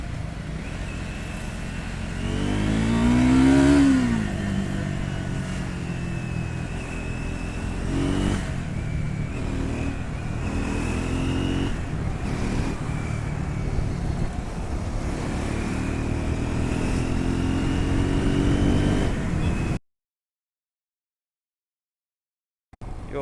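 A Triumph Scram 400 motorcycle on a test ride, its engine heard up close revving and accelerating through the gears with rising and falling pitch, steady and loud for about twenty seconds before cutting off abruptly.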